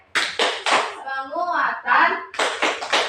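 Children at school clap hands in a rhythmic chant, a few sharp claps, then a pause filled with chanted voices, then another quick run of claps, loud and close.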